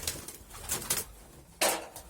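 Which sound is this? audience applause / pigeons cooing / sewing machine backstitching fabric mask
pigeons cooing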